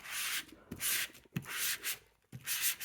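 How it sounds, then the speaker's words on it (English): Close to My Heart cardstock with a white core being sanded across a page, giving repeated dry rasping strokes in bursts of about half a second with short pauses between, close up and with no one talking. "So when you sand it, it will reveal that white core."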